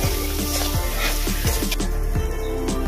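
Onion, turmeric and salt being stirred together in a hot pan, sizzling steadily with a spatula scraping the pan in a regular rhythm of strokes.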